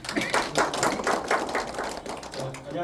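An audience at a rights advocacy report event claps together in a short burst of applause, a dense run of hand claps that holds steady for a few seconds.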